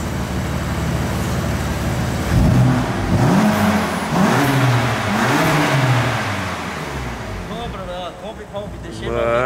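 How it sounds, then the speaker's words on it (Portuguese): A BMW M3 at a dealership revs hard, the engine climbing and falling in several rising sweeps before settling back, loud and close with people talking over it. "Vou acelerar a M3."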